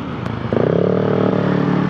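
A motorcycle on a night ride on the Marilaque highway rumbles close by, its engine note rising after a brief clatter into a steady, throbbing drone that carries on to the end.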